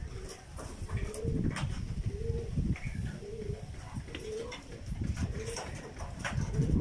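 Breeder pigeons in a loft coo in a repeated soft rhythm, several low throaty calls overlapping close by amid rustling and faint background noise.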